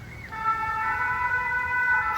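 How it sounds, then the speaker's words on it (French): Emergency vehicle sirens pass outside, carrying a steady, clear wailing tone at moderate distance that holds for about two seconds over faint background noise. "excusez-moi pour les sirènes"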